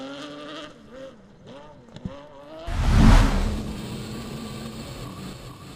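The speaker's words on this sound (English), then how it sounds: "Listen to the engine screaming." A rally car engine rises to a loud, high-pitched scream as it passes close by on a stage, then fades into a steady rushing noise.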